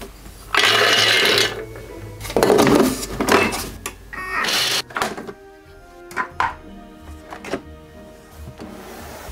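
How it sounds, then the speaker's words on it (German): Hazelnuts being ground for hazelnut macaroons: loud, uneven bursts of coarse mechanical grinding start and stop several times, then fade to quieter clatter near the end. "Als erstes die Nüsse entweder mahlen oder gleich gemahlen kaufen."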